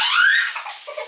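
Water from a tap pours into a bathtub in a brief, loud, steady rush that tapers off toward the end.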